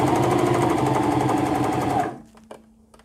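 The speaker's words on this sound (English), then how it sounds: "put the foot down and start sewing." A sewing machine stitches steadily with its presser foot lowered, a loud, fast, even mechanical whirr that runs for about two seconds and then stops. A faint click and quiet hum follow.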